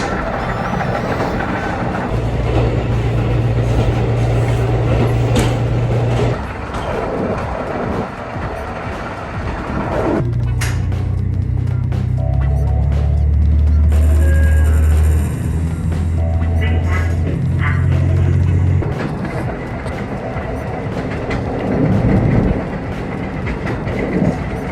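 A JR Hokkaido train running along rails toward Akkeshi by the bay, heard from inside the rear car: steady loud rumble with low droning tones and intermittent clicks from the track, continuous throughout.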